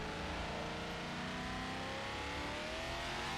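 Simulated car engine in Forza 7 revving high in first gear, a steady loud drone with harmonics that climb gradually as RPM rises, no talk.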